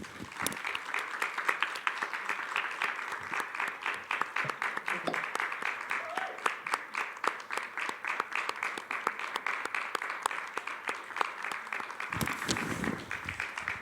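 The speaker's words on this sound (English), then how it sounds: "but there is applause" Sustained crowd applause at an evening feminist conference performance on International Women's Day, dense steady clapping from many hands running the full length at moderate level, slightly distant, with a brief swell near the end.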